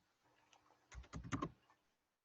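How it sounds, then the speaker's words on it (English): Quick burst of keystrokes on a computer keyboard while entering program code, a cluster of crisp clicks in close succession, close and fairly quiet, with no talking. "We're gonna go down there and type return 0."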